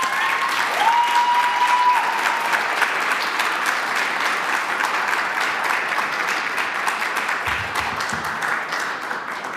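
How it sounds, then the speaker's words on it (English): Sustained audience applause at an honors conference after a student presentation, a full steady roar of clapping that stays strong and tapers only slightly, with a brief tone and a low thump partway through. "let's give Brailey a round of applause"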